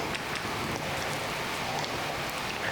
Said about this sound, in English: Well, it is a rainy Friday the 13th morning here.